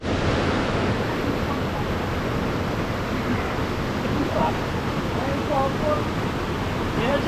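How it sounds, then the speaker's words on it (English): A hidden mountain waterfall on a hike in Greiggs, St. Vincent and the Grenadines, roars as a steady, broad wash of falling water that stays loud and unbroken throughout. "Waterfall!"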